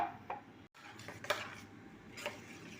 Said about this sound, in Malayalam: കുറച്ച് വെള്ളവും കൂടി ഒഴിച്ച് നമുക്ക് നന്നായിട്ട് മിക്സ് ചെയ്യാം